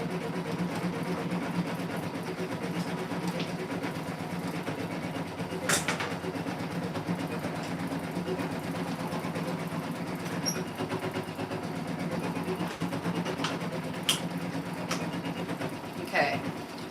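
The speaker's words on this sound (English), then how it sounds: "I'm going to take this to the machine and sew the top edge" A sewing machine stitches the top edge of a fabric clutch in an embroidery hoop, giving a continuous, even mechanical whir that runs throughout with a few brief clicks.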